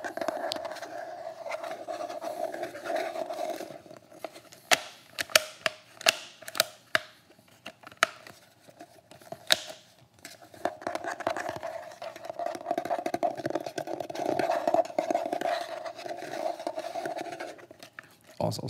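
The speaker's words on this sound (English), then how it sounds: "everybody in my comment section loves the sound of the holster being tapped, scratched, and moved around" Tapping and scratching on a tactical gun holster, close-up with irregular sharp taps and scraping textures under a soft speaking voice.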